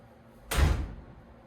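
A single loud thud as a door with no closer fitted swings freely shut, booming sharply and then fading over about half a second.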